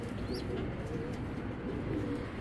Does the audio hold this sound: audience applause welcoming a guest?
no